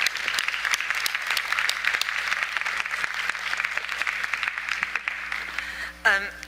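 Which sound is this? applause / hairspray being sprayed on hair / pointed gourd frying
applause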